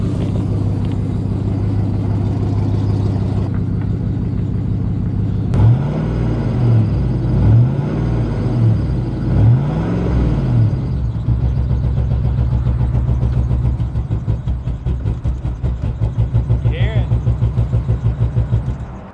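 A worn C6 Corvette engine catches and settles into a rough, uneven idle, its low rumble lurching and pulsing irregularly at close range while someone talks over it.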